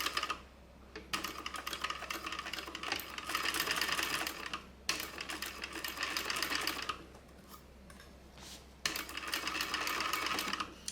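Sewing machine stitching bag seams at a quarter-inch allowance, running in three rapid bursts of close, steady needle clatter with short pauses between.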